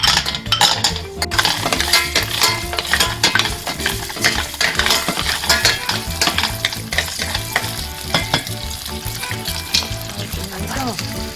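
Clams sizzle in a pan with pepper flakes over medium heat, a steady loud frying crackle broken by repeated clinks and scrapes of stirring against the pan and shells.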